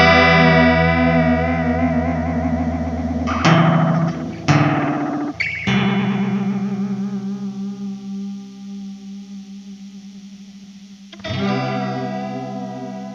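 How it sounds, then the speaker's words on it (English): A guitar played through an effects pedal whose modulation in bounce mode swings between its two extremes, giving loud distorted, chorus-like chords that sweep and waver over several seconds, with a few sharp strums and a fresh chord near the end, no talk. "in bounce mode, what happens is it goes up to the maximum, the farthest maximum, and then it goes to the other extreme"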